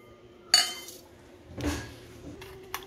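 A plate picked up and set down with two sharp ceramic clinks, about a second apart, and a lighter tap after them in a quiet kitchen. No talking.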